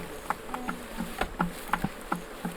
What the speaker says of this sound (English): bees going up my pants